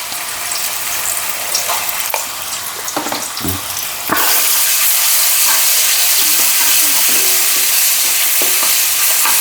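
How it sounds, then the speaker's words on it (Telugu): Ginger goes into hot oil in a pan for a gongura fish fry. Quiet stirring and scraping turn into a loud, steady sizzle that carries on close by. "నూనె వేడైంది కొంచెం అల్లం నూనెలో"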